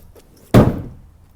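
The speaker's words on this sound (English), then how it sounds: "Oh, the hood just fell." The hood of a BMW E34 525i drops shut in one loud, close slam with a short boomy thud that rings off quickly, following a near-silent pause.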